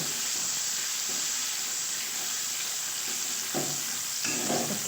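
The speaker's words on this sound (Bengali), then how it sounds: "দইটা দিয়ে আমি ভালো করে আরও একবার কষিয়ে নেব" Curd sautéed into a cashew and tomato masala for a curd and bottle gourd curry fills the pan with a constant loud hiss, broken by a few scraping stirs of a spoon near the end.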